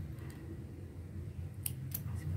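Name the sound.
small scissors cutting fabric for a blazer pocket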